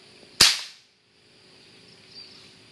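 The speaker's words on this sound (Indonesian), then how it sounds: "itu ada tupai yang mau ditembak sama teman saya" A single sharp gunshot rings out in a durian orchard, fired at a squirrel, followed by a quick decaying tail and quiet outdoor ambience with faint insects.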